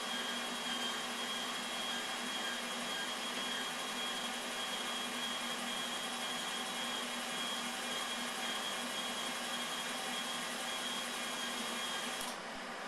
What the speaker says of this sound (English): go ahead and pull the trigger, and we should have wire in just a few seconds here